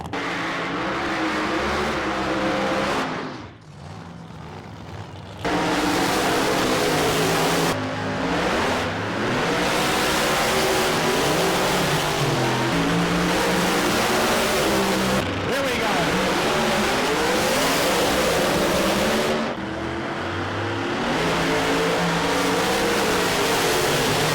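A drag racing car, the black number 34, launches and accelerates hard down the strip at about 167 mph, a loud sustained engine roar with a brief dip early on, under a commentator's voice.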